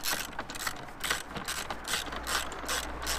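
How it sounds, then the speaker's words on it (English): A hand ratchet clicks in rapid, steady bursts while tightening 10mm bolts on a carbon intake fitted to a BMW Mini F56, each stroke a bright metallic ratcheting close by, with no talking. "then finish them off with the ratchet"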